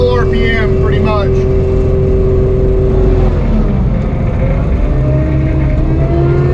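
An Annihilator disc mulcher runs at full RPM with a loud, steady engine roar and a rising whine that levels off, while a person talks over it.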